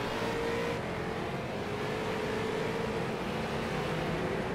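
Race cars in an iRacing figure-8 endurance race ease through the crossover. Their engines make a steady, moderately distant drone with a slowly rising whine, and no one speaks.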